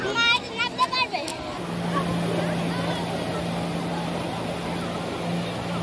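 Speedboat motoring at sea off Digha Beach, a steady low engine drone holding after brief voices at the start, with wind and surf wash underneath.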